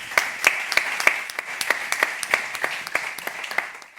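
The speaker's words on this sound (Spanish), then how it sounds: "Un aplauso para Marta, por favor." Steady applause from a crowd at a talk at CaixaForum Macaya, many hands clapping with distinct sharp claps standing out over the continuous patter.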